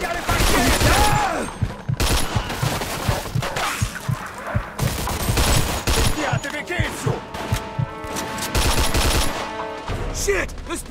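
Gunfire in the Mafia 2 video game is loud and continuous, with rapid bursts of shots, cracks and debris under a chaotic firefight, and it fills the whole stretch with barely a pause.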